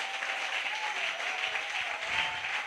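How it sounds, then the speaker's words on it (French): A church congregation applauds and cheers at a worship service, a dense, continuous wash of clapping from a large crowd that holds at a steady level. "Continue d'acclamer fort pour le Seigneur."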